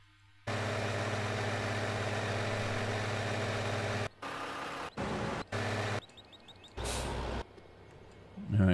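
A tractor engine idles in the farming video game Farming Simulator 15, a steady, close mechanical drone that cuts out briefly several times before resuming in shorter bursts.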